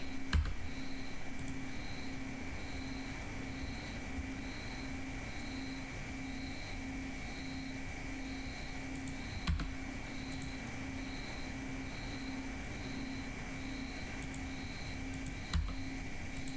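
Computer keyboard typing and clicking to set character pose controls, a faint steady run of soft keystrokes with two sharper clicks, alone with no talk over it.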